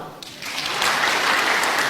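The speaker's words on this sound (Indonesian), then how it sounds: "Tepuk tangan." An audience at a church gathering breaks into applause, starting softly and swelling within a second into full, sustained clapping.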